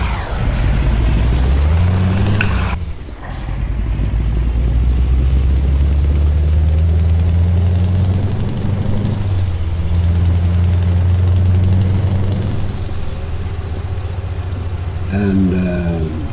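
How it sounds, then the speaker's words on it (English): Scania V8 730 Euro 6 truck engine with an Octocruise gearbox in Euro Truck Simulator 2, a loud, steady low drone that dips briefly early on, then holds and shifts pitch as it revs, alone without talk. "this, as I showed you, is with the 730 V8 engine, Euro 6, and an Octocruise gearbox."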